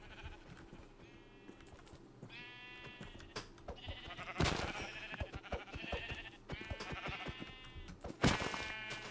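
Many sheep bleat in a Minecraft Vault Hunters game, several overlapping calls in a steady run, moderately loud, with footsteps and small game sounds between them.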